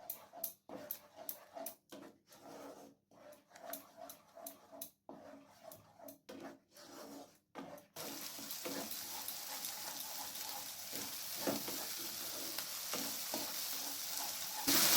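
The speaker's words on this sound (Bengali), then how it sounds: "এরপর ভালো করে নাড়াচাড়া করে নিচ্ছি যতক্ষণ না জলটা শুকিয়ে না আসছে।" Spice paste and duck egg curry being stirred in a pan, a loud steady sizzle of frying with scraping stir strokes, preceded by a stretch of rhythmic, intermittent stirring clatter.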